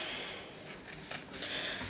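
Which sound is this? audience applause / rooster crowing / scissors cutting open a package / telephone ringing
scissors cutting open a package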